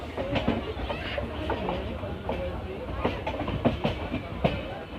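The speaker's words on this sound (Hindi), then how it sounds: "ट्रेन एंटर कर रही है राजपुरा जंक्शन" A Humsafar Express passenger train rolling into Rajpura Junction, with rhythmic wheel clacks over rail joints and a continuous rumble heard from onboard, and voices murmuring in the carriage.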